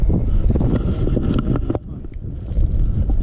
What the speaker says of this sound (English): it's a bit windy for a video